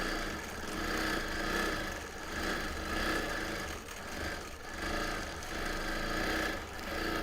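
A sewing machine stitches down a quilt's seam allowance in a steady, pulsing run of motor whir and needle chatter, moderately faint and continuous.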